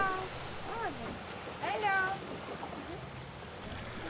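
Several cats on an island meow in drawn-out, wavering cries over a steady background hum, heard from a passing boat, moderately faint.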